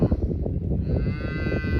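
Calves in a pen on a farm moo loudly and close, with drawn-out calls overlapping a low rumble of the herd.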